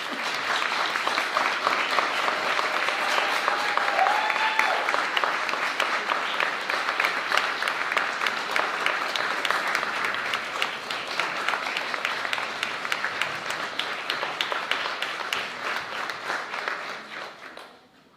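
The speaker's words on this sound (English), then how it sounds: "Let's give her a nice round of applause." A school board meeting audience gives a steady round of applause for a retiring principal after 26 years of service, with dense clapping that holds for about seventeen seconds and then fades out.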